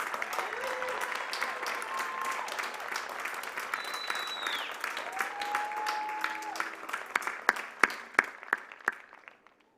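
Applause and cheering from friends and family greet graduates at an outdoor commencement ceremony, a dense steady crowd of clapping with scattered whistles and voices that thins into a few last sharp claps before fading out.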